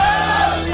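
A football team in the changing room after the final whistle of a promotion win, a loud dense burst of crowded shouting and yelling from many voices close by.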